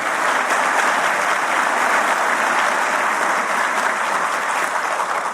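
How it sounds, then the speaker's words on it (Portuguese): Loud, continuous applause from an audience at a Brazilian government event, a thick unbroken roar of clapping that holds constant from start to finish. "Eu queria solicitar uma salva de palmas à NTT"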